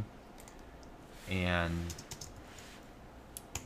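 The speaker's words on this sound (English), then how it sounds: "I'm just gonna start typing" Rapid keystrokes on a computer keyboard click steadily at close range, with a brief spoken word partway through.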